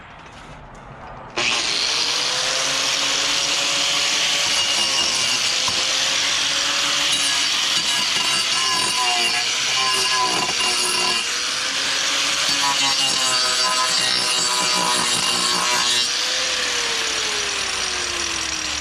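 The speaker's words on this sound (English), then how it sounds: "rather than actually grind on my stringer, since I ain't learned how to work it, let's see what it does to a piece of wood" Power grinder fitted with a diamond carbon-tipped wheel cutting into a piece of wood: motor spins up abruptly, then a loud, continuous abrasive whine and rasp with pitch dips as the tool bites, close and without talk.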